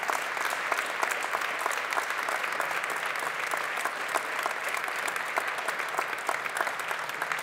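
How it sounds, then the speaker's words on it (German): Sustained applause from a studio audience in Berlin at a German health award ceremony, dense steady clapping with no voices over it. "Und das ist nochmal Ihr Applaus aus Berlin"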